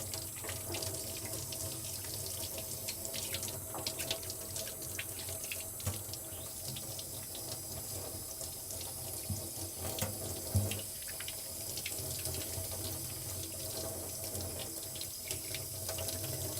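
A kitchen or washroom faucet runs steadily into a sink while hands are rinsed, a constant close splashing rush with small irregular splashes throughout, no speech.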